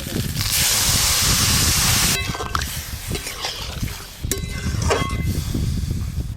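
Sour broth of mango sticks soaked in water set to boil in a pan, with a loud steady hiss of steam and sizzle, then lighter bubbling and occasional clinks of utensils.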